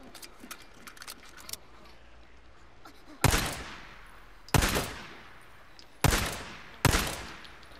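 Gunfire in Days Gone, a PS4 video game: four loud, sharp shots spaced about a second apart, each ringing out with a decaying tail, after a stretch of faint ticking and rustling background.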